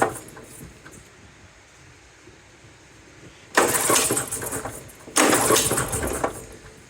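Billy Goat QB884H blower engine sputtering to life twice with the throttle opened, two loud bursts of a few seconds each rising out of a quiet background with a short lull between them.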